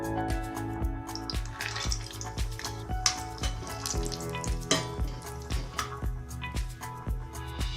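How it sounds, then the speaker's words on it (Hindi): Dry fruits frying in ghee over a medium flame for sweet coconut rice, a steady close sizzle with repeated sharp clinks and scrapes of a spoon stirring in the pan throughout. "घी में अब ड्राई फ्रूट्स डालेंगे।"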